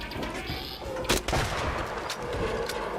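Several sharp gunshots ring out in ARC Raiders, two louder cracks near the middle among scattered firing and background game noise, fairly close and punchy.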